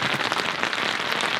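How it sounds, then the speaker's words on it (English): Steady rain patters densely on a nearby surface at a carp fishing lake, a continuous hiss of drops with no voices. "Excuse the rain, but that's what we're putting up with right now."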